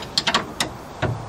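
A wrench works nuts on a 1971 VW Karmann Ghia during a disc brake and drop spindle upgrade, giving a few short, close metallic ratcheting clicks in a quick uneven burst.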